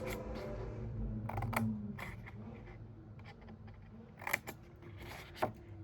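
Scissors cut through paper while a handmade treat box is being made, giving several short, crisp snips spaced apart at close range over a faint background hum.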